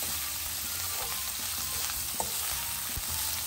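Gizzard frying in hot oil for Ghana-style Jollof rice, a steady broadband sizzle with occasional sharp pops and spatters throughout, close and even in loudness.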